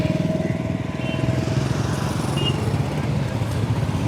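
Motorcycles of a group of bikers idle and rumble steadily on a crowded bridge near Rishikesh, a continuous close engine drone with low pulsing throughout, some faint voices in the background.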